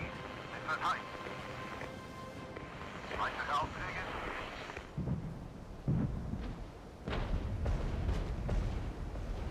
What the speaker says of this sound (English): As soon as we can bring in another artillery strike, we will.